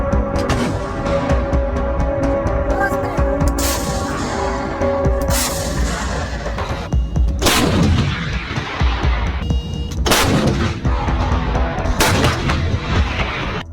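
2S7 Pion self-propelled howitzers firing in a war zone, a series of loud heavy booms spaced a few seconds apart, each with a sharp blast and rolling echo, with no speech.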